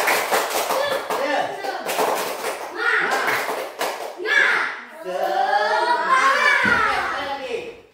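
A group claps together in a quick, rhythmic pattern, and then young voices break into a loud shouted chant.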